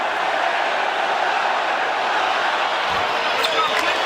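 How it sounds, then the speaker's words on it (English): A packed NBA arena crowd at the American Airlines Arena in Miami, during a Heat versus Bucks playoff game, makes a loud, sustained roar during a free throw, with a few sharp thuds near the end. "the American Airlines Arena crowd count him down"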